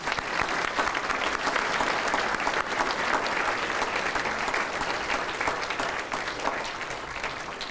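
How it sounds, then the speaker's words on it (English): An audience at an awards dinner gives sustained, dense applause that holds steady and then eases slightly toward the end, with no voices over it. "One more time, a round of applause as they come."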